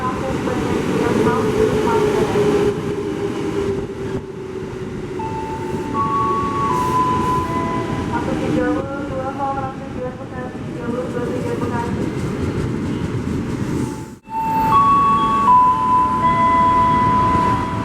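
A KRL Commuter Line train rumbles steadily into Klender station, loud and close, with rolling wheel noise and squealing brakes while a station announcement plays in the background.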